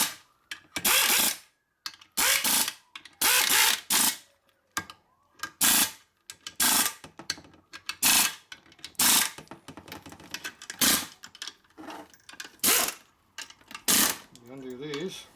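Ratchet tightening the motor mount bolts on a 1961 Harley Sportster XLCH Ironhead, close and loud in repeated bursts of rapid clicking with short pauses between, and brief talk near the end.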